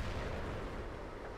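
A continuous, dense rumbling roar of tank cannon fire in World of Tanks, loud and sustained throughout with no clear gaps or individual shots.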